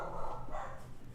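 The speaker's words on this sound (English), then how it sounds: "Those dogs." Dogs bark in the background, a muffled burst of barks and yips heard at moderate distance indoors with no other talk during the moment.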